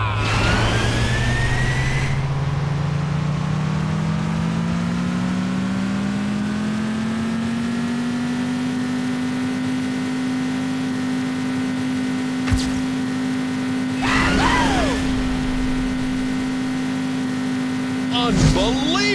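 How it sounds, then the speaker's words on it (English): Car engines rev in the City Racing 3D street racing game, a loud, sustained drone that climbs steadily in pitch as the cars accelerate, with brief sharper bursts near the end. "Gentlemen, start your engines!"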